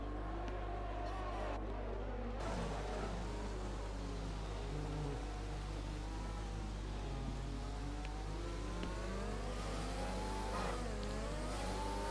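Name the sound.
racing car engine accelerating in F1 video game replay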